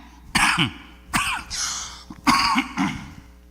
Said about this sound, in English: Excuse me with the little cough.